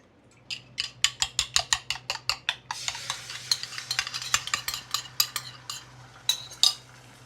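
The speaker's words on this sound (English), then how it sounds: "4 eggs and we're gonna beat them" Four eggs are beaten in a bowl with a utensil, a fast run of sharp, regular clacks that then turns looser and more scattered, close up and with no voices.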